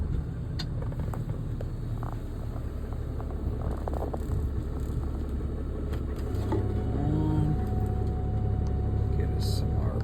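A John Deere 1023E compact tractor with fuel issues rumbles at a low, steady idle, then rises slightly as its engine picks up revs, with background noise and some nearby talk.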